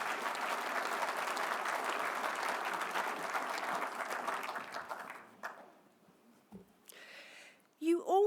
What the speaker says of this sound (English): Please give her a round of applause for the work that she does.